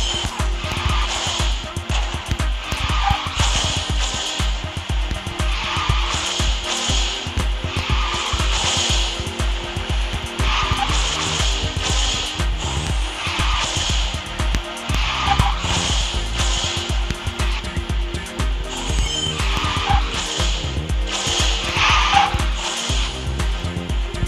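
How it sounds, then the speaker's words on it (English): Continuous engine roar and repeated tire screeches from a car drifting in Garena Speed Drifters, loud and sustained throughout with rhythmic surges. "All I have to do is always a quick drift"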